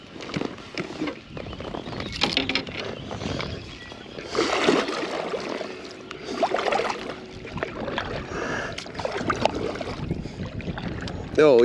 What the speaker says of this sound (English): Oh yeah, now the wind picks up.